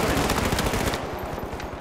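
Rapid bursts of gunfire from an explosive shooting video game, dense crackling volleys that repeat loudly through the whole stretch, with no voice over them.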